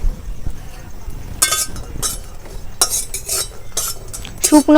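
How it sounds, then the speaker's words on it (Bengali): Six green chillies being dry-fried without oil in a pan, heard as several short bursts of metallic scraping and clinking from a utensil stirring against the pan over a quiet background, close and intermittent. "এবার এই কাঁচা লঙ্কা ছটা ভেজে নিচ্ছি"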